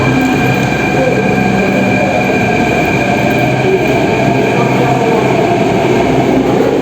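Steady, loud rumble of a metro train with constant mechanical whine and hiss, unbroken throughout.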